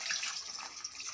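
Water pours briefly into a cooking pan for a dried prawn and boondi curry, a soft steady hissing splash lasting about a second, faint and alone.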